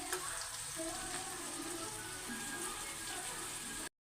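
Masala paste for an aloo curry cooking in a pan, a steady bubbling sizzle held at an even level for about four seconds before cutting off abruptly.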